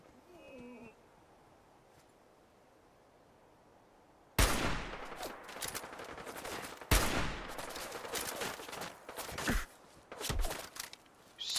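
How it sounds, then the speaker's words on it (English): Gunfire in the video game Fallout 4: after a quiet start, loud bursts of shots break out and continue in rapid, repeated volleys with sharp cracks, set against ambient game sound. "Somebody is shooting me"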